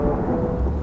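Thunder sound effect, a loud, sustained low rumble with a rain-like wash, heard alone without speech.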